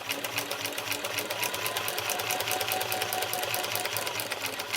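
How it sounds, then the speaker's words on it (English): Home sewing machine stitching quilt layers with a walking foot, a steady, fast, evenly pulsing mechanical whir running continuously at close range with no pauses or talk. "And we're going to sew."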